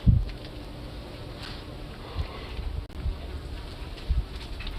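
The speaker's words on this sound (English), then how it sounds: "Oh, there's a bunch of bees." A bunch of bees buzz outdoors in a faint, steady drone, broken by occasional soft thumps and rustles nearby.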